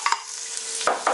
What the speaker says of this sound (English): Those are the black mustard seeds popping.